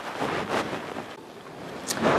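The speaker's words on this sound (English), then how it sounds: "I hear them bubbling in there" Cranberries simmering in sugar water in a covered pot on a stovetop burner give a steady, close, broadband hiss and bubbling wash with soft surges, no voices.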